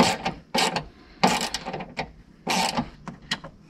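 Small Torx screws being undone with a T20 bit on the boot lock of a BMW 1 Series F20, heard as close, short bursts of ratcheting, clicking mechanism noise in an uneven rhythm.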